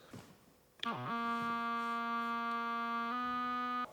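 A sustained synthesizer chord from a beat, rich in stacked harmonics, enters with a sharp attack and a brief pitch glide, then holds steady at full level, shifting slightly partway through before cutting off; no voices.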